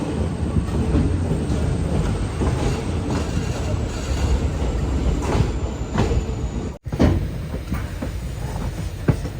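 The Mysuru–Chamarajanagar passenger train leaving platform 6 at Mysuru Junction, a loud rumbling roll with rhythmic wheel clatter and a brief squeal, heard from on board.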